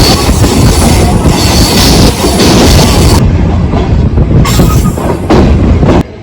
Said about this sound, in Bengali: আমাদের ট্রেনটি ছেড়ে দিল